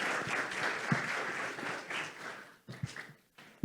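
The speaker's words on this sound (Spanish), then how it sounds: "aplauso para ustedes." An audience at a corporate talk event breaks into sustained applause, a dense mass of clapping that thins out toward the end, leaving a few scattered claps.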